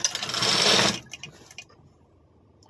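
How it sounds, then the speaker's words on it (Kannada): An electric sewing machine stitches across the end of a small cloth piece: a loud, close, fast whirring run of about one second stops abruptly, followed by faint clicks and handling in near silence. "ಈ ತುದಿಗೆ ಒಂದು ಸ್ಟಿಚ್ ಹಾಕ್ಕೊಳ್ಳಿ ಫಸ್ಟ್ಗೆ ತುದಿಗೆ ಒಂದು ಸ್ಟಿಚ್ ಹಾಕ್ಕೊಡಿ"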